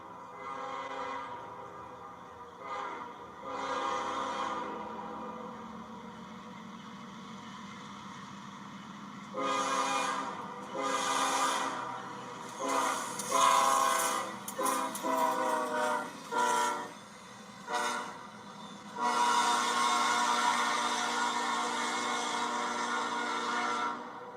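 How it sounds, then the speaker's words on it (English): Several light locomotives run past at about 50 mph, sounding a loud horn in repeated blasts over steady engine rumble and wheel noise that swells and holds near the end; no talking. "Here I am, just a set of light locomotives"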